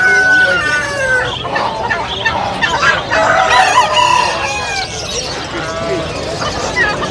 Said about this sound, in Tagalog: Ang mahilig sa mga manok na panabong dito